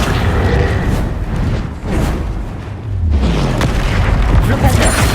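Confringo fire spell cast in Hogwarts Legacy, a dense booming burst of game explosions with a rumbling low end, loud and continuous across the clip and layered with other spell effects.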